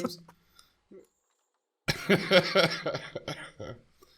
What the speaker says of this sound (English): Please pardon my coughing.